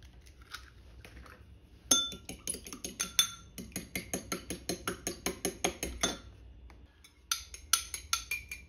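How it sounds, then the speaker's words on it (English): A fork beats one egg in a bowl with a quick, steady rhythm of close clicks and clinks against the sides, pausing briefly partway through and then starting again for a short final run. The egg is for a copycat Thomas's date nut loaf. "Now I want to fork beat one egg"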